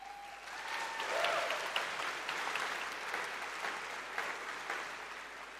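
Sustained, steady applause from a large audience at the Labour Party Conference in Liverpool, heard from within the hall, with a few louder claps standing out.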